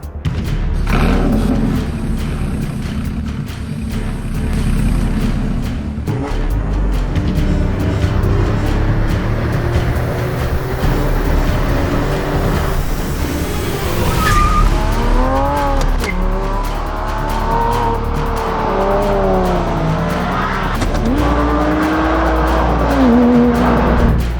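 Stock Porsche GT4 sports car driven hard, its engine roaring loud and close throughout as it revs up and down through gear changes, with tires squealing in long wavering cries through the corners.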